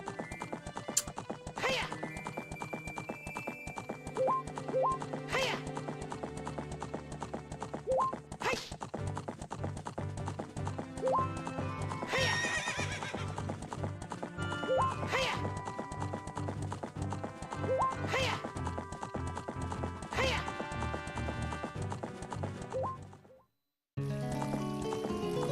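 Horse hooves clip-clopping at a steady gallop in Zelda: Ocarina of Time, with occasional neighs and game music layered over it, then a brief cut to silence near the end.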